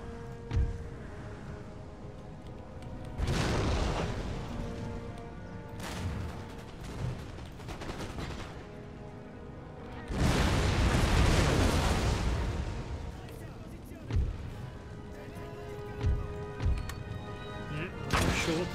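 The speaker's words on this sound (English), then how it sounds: "this artillery unit to keep firing at the breach" Artillery fire hitting a wall breach in Empire Total War, several booming blasts with rumbling tails spaced across the stretch, someone talking between them.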